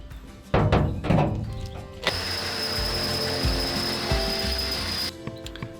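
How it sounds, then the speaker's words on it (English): A larger drill bit bores a bigger hole in the metal roof of a Renault Master van for a Fiamma Turbo roof vent, starting with a few knocks and then a steady loud whine for about three seconds before stopping. "And now you drill the bigger hole with the bigger drill."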